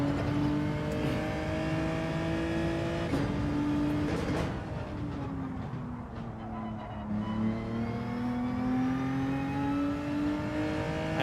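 Gran Turismo 7 race car engine at Watkins Glen, loud and continuous, rising in pitch under throttle, dipping briefly midway, then climbing steadily again with no talking.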